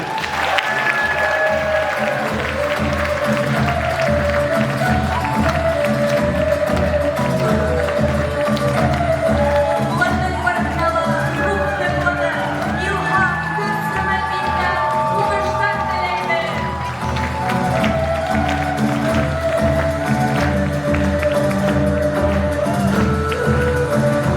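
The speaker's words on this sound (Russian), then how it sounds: "давайте проводим наших девушек бурными аплодисментами" A large audience at a beauty pageant gives sustained, loud applause for about twenty-four seconds, dense steady clapping under a presenter's voice and background music.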